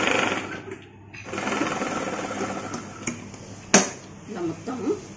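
A sewing machine stitches the seams of a Punjabi chudidar pant in bursts of fast mechanical whirring, with a brief pause, a sharp click partway through and clattering handling noises near the end.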